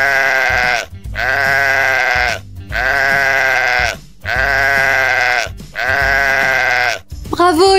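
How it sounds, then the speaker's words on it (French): A domestic sheep bleats loudly and close, four long wavering calls separated by short pauses, with a brief different sound at the very end. "il s'agit du mouton. Le mouton."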